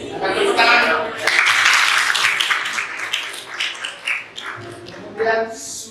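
Students in a classroom break into a short round of clapping, a bright burst of many hands that swells then fades into scattered claps, with voices mixed in.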